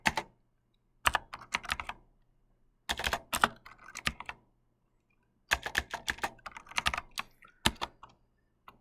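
Typing on a computer keyboard, close up, in three bursts of rapid clicking keystrokes separated by short silent pauses.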